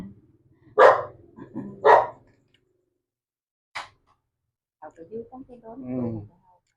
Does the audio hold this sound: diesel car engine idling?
no